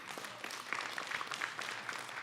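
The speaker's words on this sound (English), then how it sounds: "Round of applause, everybody." Audience applause in a room at a conservation event, a moderately quiet, steady patter of many hands clapping throughout, with no speech over it.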